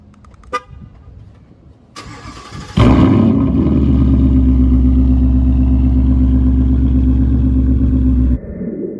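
A Gen 3 Coyote 5.0 V8 with an aftermarket exhaust system fires up after a couple of sharp clicks, then settles into a loud, steady, deep rumbling idle that holds for several seconds before cutting off.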